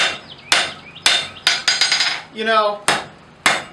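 Hammer blows on hot steel being forged into a decorative heart on an anvil: sharp, ringing metallic strikes about every half second, loud and close, with a short spoken phrase in the middle.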